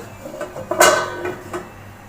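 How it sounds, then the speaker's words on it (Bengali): A lid is set down on a pot holding a cake baking on the stove, giving one clear metallic clink amid a few soft handling knocks, close and alone. "এখন আমি ঢাকাটা দিয়ে দিলাম"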